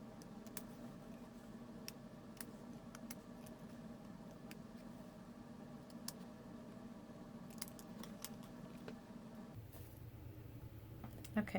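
Scissors trim the protruding ends of a handmade paper-craft bow, giving faint, scattered snips and ticks over a low steady background hum, close by and quiet, with no talking.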